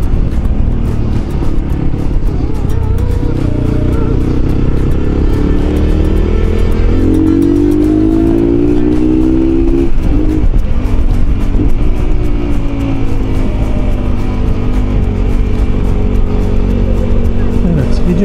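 Mondial Rx3i Evo motorcycle ridden on the road, its engine droning steadily and loudly with rising and falling revs under constant wind rush.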